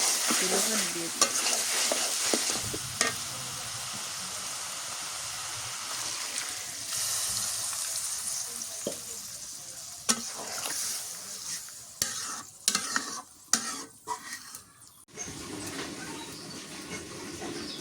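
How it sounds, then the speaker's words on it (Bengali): Pointed gourd and meat cook in oil in a pan, giving a loud, close sizzle with repeated scraping stirs and clattering strokes, some abrupt bursts and pauses, and no talk. "পটল আর মাংস ভালো করে কষাই নিলাম, তেলে পানি দিয়ে দিই"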